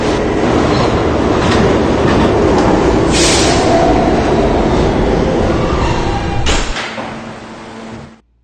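R160 E subway train running toward World Trade Center, a loud continuous roar of wheels and car rumble heard from on board, with rattling bursts before it slows and fades out.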